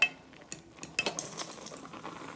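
Noodles being stirred in a cooking pot, with a few sharp utensil clinks and scrapes against the metal over a soft, continuous background hiss, close and fairly quiet.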